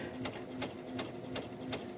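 Sewing machine stitching quilt fabric pieces back together along a curve, a steady close mechanical whir with five evenly spaced sharp clacks, no talking.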